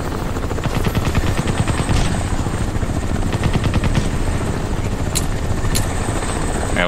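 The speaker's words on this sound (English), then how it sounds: "I hear a plane." A loud aircraft drones overhead in the video game Crysis Remastered, a thick rhythmic chopping roar that holds steady throughout with faint sharp gunfire pops mixed in.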